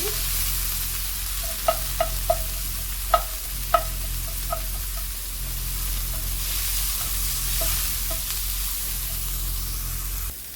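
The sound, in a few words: fresh frozen coriander frying in a warm pan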